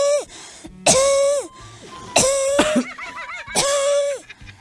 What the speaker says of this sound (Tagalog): sa mukha ko pa umubo